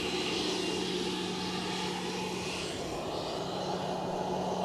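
A KLM aircraft at Edinburgh Airport produces a continuous, even engine drone with a steady low hum underneath, moderately distant and unbroken for the whole stretch.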